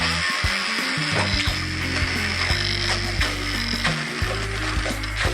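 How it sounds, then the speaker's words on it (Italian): An immersion blender purees a prawn bisque made with mazzancolle prawns, a loud, close motor whir that shifts pitch in steps as it churns, with rattling and scraping against the container throughout. "Adesso frulliamo col mixer la bisque."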